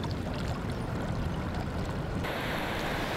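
Waves break and wash continuously along the beach at Sodwana Bay on a wintry morning, a broad, steady roar of surf with no voices.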